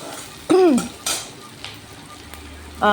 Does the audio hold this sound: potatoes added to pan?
yes